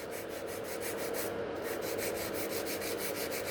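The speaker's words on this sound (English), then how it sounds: "So think where you're filing" A nail file is rubbed back and forth over a gel nail extension in quick, even strokes, a close, dry, steady rasping that carries on for the whole stretch with no voice over it.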